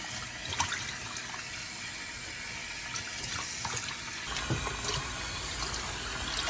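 Beef pieces are rinsed under a running tap into a sink, a steady close-up stream of water splashing over the meat with small sloshing bursts and no talk.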